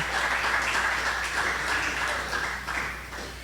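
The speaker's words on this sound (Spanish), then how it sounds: "¿Cuántos pueden dar palmas al Señor?" A church congregation clapping their hands together in steady, sustained applause, a dense crowd of many hands filling the room for several seconds.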